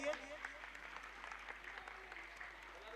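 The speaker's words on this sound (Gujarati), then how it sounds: "તો સનતભાઈ શાહના માનમાં એક વખત આપણે તાળીઓ પાડીએ." An audience claps in honour of Sanatbhai Shah at a cooking competition for blind women in Gujarat. The applause is brief, soft and distant, and continues steadily through the short moment.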